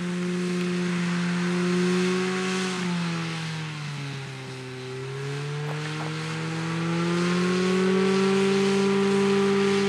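A powered parachute engine drones loudly at takeoff, its steady buzzing pitch dipping briefly as the throttle eases, then climbing and holding as the craft gets going, close and continuous with no talk.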